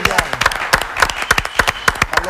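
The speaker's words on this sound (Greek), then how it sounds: "Σας χειροκροτούμε." Studio applause on a Greek television show, a dense run of sharp claps close by, with a voice speaking over the clapping.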